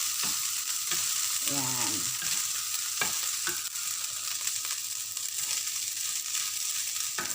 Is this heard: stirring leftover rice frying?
yes